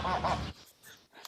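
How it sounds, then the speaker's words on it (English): Ducks quacking as a sound effect, two loud close honking quacks in quick succession followed by fainter trailing calls. "And don't forget about the ducks."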